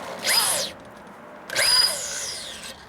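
Two bursts of high-pitched power drilling with a tap drill on a 1952 Harley-Davidson Panhead rear brake, each whining for about a second with a pause between, close by.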